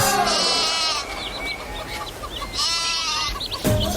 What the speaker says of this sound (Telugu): మేకతో ఏం మాట్లాడుతున్నారు?